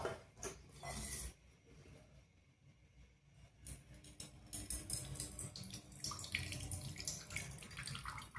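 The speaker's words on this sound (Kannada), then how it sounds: "ಅವಲಕ್ಕಿ 2 ರಿಂದ 3 ಬಾರಿ ತೊಳೆದ ನಂತರ ನೀಟಾಗಿ ನೀರನ್ನೆಲ್ಲ ಶೋಧಿಸಿ" Poha (flattened rice) is rinsed and drained in water, with quiet splashing, sloshing and trickling bursts and running water, close and fairly soft.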